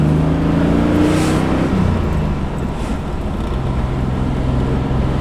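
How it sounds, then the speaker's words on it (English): A 1976 Holden Torana SLR 5000 V8 heard from inside the cabin, its engine and exhaust droning and rising as it revs, loud and steady throughout with no talking. "I listen to my exhaust sound and the engine"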